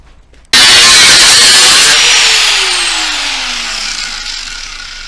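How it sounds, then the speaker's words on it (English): A power tool cuts into the rusty front panel of a Mitsubishi L200 pickup, starting abruptly with a loud, harsh, high-pitched grinding whine that holds steady while its pitch slowly drops, very close. "I'm going to be getting on with cutting the front panel out."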